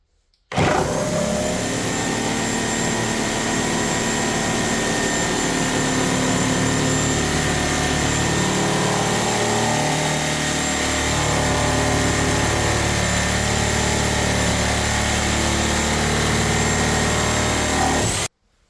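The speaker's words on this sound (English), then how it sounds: "Here we have the Craftsman blade versus plain wood. Let's see how it does." A reciprocating saw fitted with a Craftsman demolition blade cuts through plain wood, producing a loud, sustained buzzing drone with a rough, wavering edge. It runs unbroken for most of the clip with no talking.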